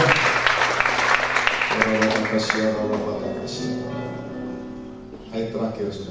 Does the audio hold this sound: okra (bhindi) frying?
no